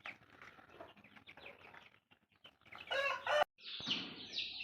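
Small chicks and adult chickens in a home flock cheep and cluck in short bursts at close range, with a louder squawking flurry near the end and no talking.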